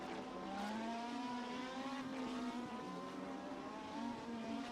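A DTM race car at Hockenheim accelerates with a steady, rising engine note that climbs and holds, faint and continuous without pauses.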